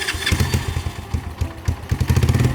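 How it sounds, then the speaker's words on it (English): Low-budget Chinese motorcycle sold online, recently upgraded, revved in short loud bursts, its engine rising and falling several times with rattly clatter, close by and with no talking. "I'm going to give you guys one last rev test before the video ends, just to show you guys how good it sounds."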